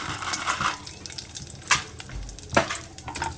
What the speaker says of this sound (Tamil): நெய் ஊற்றிட்டு இந்த திராட்சையை போட்டு அதில் வறுத்துக்கலாம்.